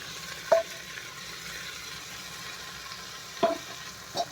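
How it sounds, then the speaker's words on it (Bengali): Taro and potato pieces fry in a pan after onion, garlic and tomato, giving a low steady hiss. Three brief utensil knocks sound against the pan. "আগে কচুটা ভেজে নেবো, আলুটা কচুটা ভেজে নেবো"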